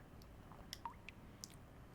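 Water drips in Honkai Impact 3rd, a few small, sparse, faint drops falling one after another in near silence.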